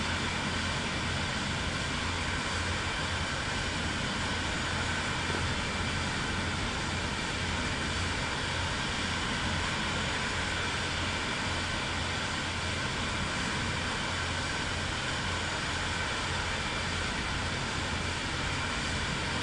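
Airliner taxiing along the ground in Microsoft Flight Simulator 2024, a steady continuous engine drone and hum holding at an even level throughout with no talking.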